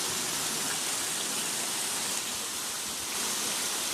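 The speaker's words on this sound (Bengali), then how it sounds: "বৃষ্টি ভালো মানে বেশি হয় দেখো এখানের অবস্থা" Heavy rain pours down over a home courtyard that is nearly flooded, making a dense, steady hiss that is loud and continuous with no voices.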